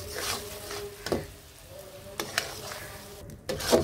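Caramel for homemade sweet yogurt sizzling in a pan as it is stirred, a soft steady frying hiss punctuated by a few scraping strokes of the spoon, close and moderately quiet.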